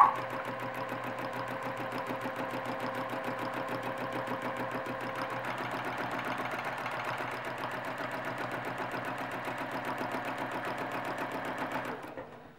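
A sewing machine stitches steadily through a quilt while free-motion quilting a meandering pattern, its fast, even needle rhythm running continuously for about twelve seconds before stopping abruptly.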